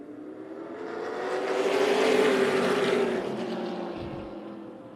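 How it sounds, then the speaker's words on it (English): Super late model race cars roar past on the Tucson Speedway oval, a broad engine drone swelling as the pack nears and fading away again, heard alone without commentary. "we're green and racing for our super late models"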